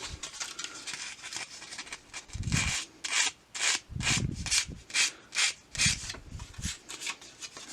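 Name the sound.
fine sandpaper rubbing a furnace flame sensor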